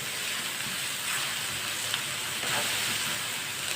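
Spices frying in a pan on low heat for an eggplant curry give a steady, close, continuous sizzle and hiss with no pauses.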